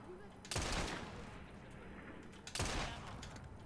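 Gunfire in Assassin's Creed Syndicate arrives as two loud, sharp shots about two seconds apart, with faint background game sound between them.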